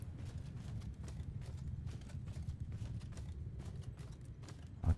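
Cavalry horses gallop in Mount and Blade 2: Bannerlord, a steady drumming of hoofbeats over a low rumble that carries on for several seconds, ending with a sudden thud.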